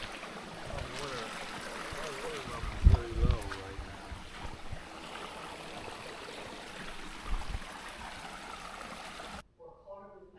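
Creek water flowing steadily around a watermelon set in to chill, a broad constant wash with brief louder splashes and some handling noise, then cutting to near silence at the end.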